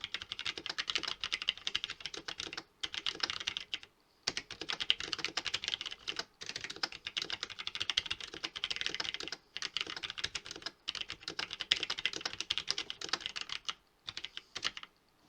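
Steady, fast typing on a Logitech G613 wireless keyboard, a close, dense patter of key presses with brief pauses between bursts, no talking.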